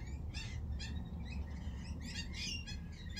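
Several birds chirping in short bright bursts, fairly close, with a steady low background rumble and no talking.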